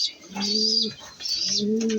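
Two low, drawn-out pigeon coos at close range while the birds feed, each a steady double-toned call, over a constant high-pitched background hiss.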